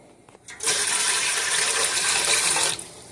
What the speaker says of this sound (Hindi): इसमें तकरीबन इतना पानी ऐड करेंगे कि वो पानी यहाँ से जो है वो ऊंचा ना हो